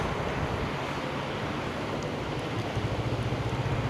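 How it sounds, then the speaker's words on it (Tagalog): Strong wind in Baguio City roars continuously and loudly, buffeting the microphone with a dense, rumbling rush that swells slightly toward the end. "Sobrang lakas ng hangin."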